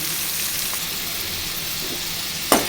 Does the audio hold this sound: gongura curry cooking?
yes